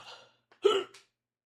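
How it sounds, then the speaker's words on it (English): A person hiccups once sharply and loudly up close, preceded by a brief breathy vocal sound, then silence. "trying to get rid of hiccups"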